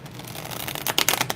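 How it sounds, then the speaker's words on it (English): A deck of tarot cards being shuffled close by, a soft papery riffling that builds into several quick, louder bursts of flicking cards toward the end, with no talking. "me go ahead and just shuffle real quick"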